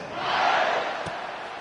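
A stadium crowd in the college football video game NCAA 26 gives a steady, broad roar that swells slightly and then eases over a second and a half, with no speech over it.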